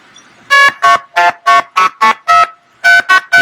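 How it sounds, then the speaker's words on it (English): Harsh buzzing tones on a phone line during phone phreaking come in a rapid irregular train of about ten short loud bursts, each a fraction of a second, with brief silences between. "So it's beeping back and forth, back and forth, back and forth until the quality of the call gets so bad that it won't pass him anymore"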